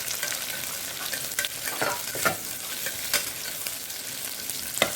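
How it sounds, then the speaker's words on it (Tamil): Thinly sliced onions for mutton biryani sauté in a hot pan, giving a steady soft sizzle broken by repeated scraping stir strokes, close up and with no talking. "வெங்காயம் சேர்த்துட்டு நல்லா வதக்கிடலாம்."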